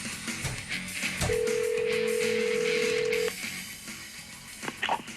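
A steady electronic telephone tone holds for about two seconds amid the clicks and handling noise of a phone being dialed for a prank survey call on a radio show.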